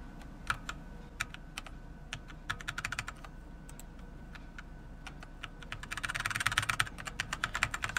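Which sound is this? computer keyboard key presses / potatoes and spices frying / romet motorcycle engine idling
computer keyboard key presses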